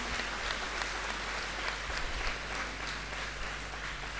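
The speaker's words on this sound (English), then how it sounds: "I think she deserves a huge round of applause." Audience applause at a centenary investiture ceremony, a steady, dense wash of clapping from a large crowd that holds evenly for the full stretch with no voices on top.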